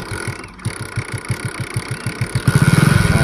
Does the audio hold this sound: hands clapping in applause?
no